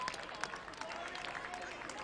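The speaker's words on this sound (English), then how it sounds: "There's a round of applause." Crowd of early-arriving Collingwood supporters applauding at a VFL football match at Victoria Park, a steady wash of distant clapping and cheering under the commentator's continuous speech.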